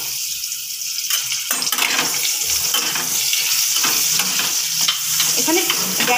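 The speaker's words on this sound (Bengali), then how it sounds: "আলুটা একটু ভেজে নেব" Potatoes coated in salt and turmeric hit about two tablespoons of hot oil in a pan, bursting into a loud, bright sizzle with scraping stir strokes and clinks, close and unbroken.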